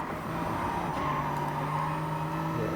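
Race car in Gran Turismo Sport on the Dragon Trail circuit, a steady droning engine note with a sustained tire squeal as it brakes hard, continuous and fairly loud throughout.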